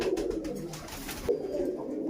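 Pigeons coo softly in low, throaty rolling notes, a brief close-up burst that fades within about two seconds against a faint background.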